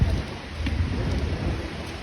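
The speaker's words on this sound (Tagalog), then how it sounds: "maya't maya bumubuhos ng ulan." Heavy rain pours down with low rumbling thunder near Charles de Gaulle in Paris, a steady dense hiss with a deep continuous roll underneath.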